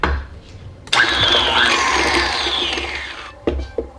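An electric mixer blends vanilla extract and honey into butter and egg yolk for a dessert, starting after a brief pause with a loud, steady motor whir for about two and a half seconds, then stopping and leaving a couple of short knocks.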